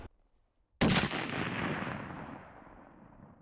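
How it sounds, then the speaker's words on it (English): A single sharp rifle shot fired at a rock outdoors during a Montana bear hunt, a loud crack followed by a long rolling echo that slowly fades. "shot the rifle at 280, 288"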